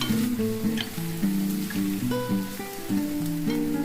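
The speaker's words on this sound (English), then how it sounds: "Fry 2-3 minutes." Mutton liver curry sizzling and frying in a pan with turmeric and chili powder, a steady close crackle of hot oil with no speech.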